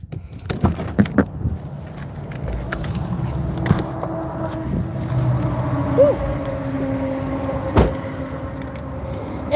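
Someone climbs out of a Jeep: keys jangle and a door clunks over a low engine hum, with several sharp close clicks and knocks scattered through the clip.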